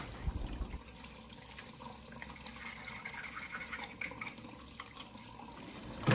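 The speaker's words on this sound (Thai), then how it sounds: "พอขูดหอยเสร็จแล้วก็ล้างทำความสะอาดอีกครั้งนะคะ" Tap water runs steadily into a sink while fresh mussels are rinsed and scrubbed clean, a continuous close splashing wash with small clinks and rubs of shells through it and no talking.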